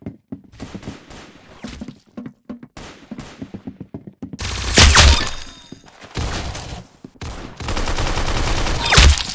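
Gunfire in the Roblox shooter Arsenal, with a burst of rapid shots and breaking impacts loud and close, following quieter clicking and rattling handling sounds.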